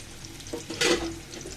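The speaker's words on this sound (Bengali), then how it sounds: "একসাথে দিয়ে ভালো মতো হালকা করে ভেজে নিব" Chopped garlic and onion hit hot oil for a lentil and pumpkin dish, giving a brief burst of sizzling with a short scrape, close and moderately loud.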